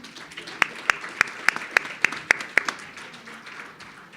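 An audience at a multiple sclerosis conference applauds. Sharp, regular claps ring out at a steady pace for a few seconds and then fade into quieter scattered clapping and room noise.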